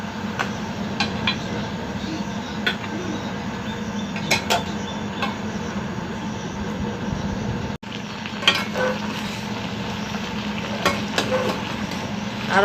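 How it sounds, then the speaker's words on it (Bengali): Sweet Fazli mango pickle simmering in a pan, with a soft continuous bubbling sizzle. A spoon stirs it slowly, giving occasional scrapes and clinks, close and fairly quiet. "এইভাবে আস্তে আস্তে এটাকে শুকিয়ে নেব,"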